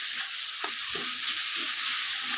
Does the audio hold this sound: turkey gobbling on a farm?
no